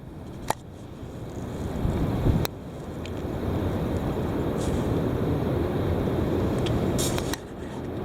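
Heavy wind roars in a dense, steady rumble that swells after the first couple of seconds and holds strong. A few sharp knocks and buffets cut through it, and no one speaks.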